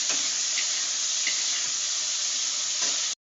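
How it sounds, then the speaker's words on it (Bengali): Eggplant pieces fry in hot oil with a bright, steady sizzle and a few soft knocks of stirring for about three seconds, then the sound cuts off abruptly. No one talks. "তেলে দিয়ে দিলাম বেগুন"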